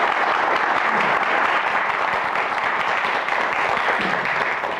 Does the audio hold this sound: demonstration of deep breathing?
no